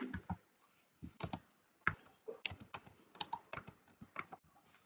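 Computer keyboard being typed on in short, irregular bursts of crisp clicking keystrokes with brief pauses between words, close and fairly quiet, no talking.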